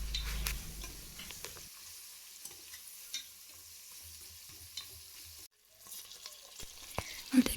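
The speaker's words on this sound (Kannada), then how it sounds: "ಇವಾಗ ಇಷ್ಟನ್ನು ಚೆನ್ನಾಗಿ ಫ್ರೈ ಮಾಡ್ಕೊಳ್ಳೋಣ, ಹಸಿಮೆಣ್ಸಿನ್ಕಾಯಿ ಮತ್ತು ಈರುಳ್ಳಿನ." Onions and green chillies fry quietly in a pan, giving a soft, faint sizzle with occasional stirring scrapes and light ticks.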